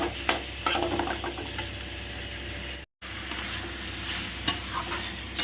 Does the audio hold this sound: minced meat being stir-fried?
yes